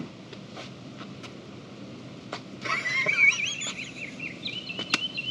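Birds chirp and warble outdoors beside an RV, a brief cluster of faint-to-moderate calls over light ambient noise and scattered clicks.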